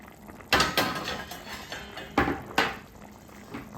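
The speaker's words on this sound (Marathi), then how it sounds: "आता एक छान उकळी आलेली आहे." A curry of sandge, sun-dried lentil dumplings, simmering in a half-covered pot on a low-to-medium flame, with a few close clattering knocks of lid or spoon against the pot over a soft bubbling background.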